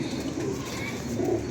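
Several caught pigeons coo in a dense, low murmur that runs steadily throughout, close by, with a busy background and no clear speech.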